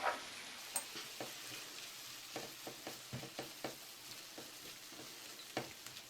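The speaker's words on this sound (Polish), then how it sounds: "Wszystko teraz na patelni wymieszam i zaraz dodam do zupy." Vegetables for a summer courgette and tomato soup are stirred in a hot frying pan. A steady sizzle runs throughout, broken by repeated soft scrapes and knocks of the stirring utensil, close and alone.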